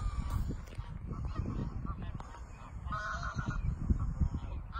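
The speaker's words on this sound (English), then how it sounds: "And there's loads of ducks here." Waterfowl on a clear lake in Germany call repeatedly with honking, goose-like cries over a steady outdoor background, moderately close and overlapping throughout.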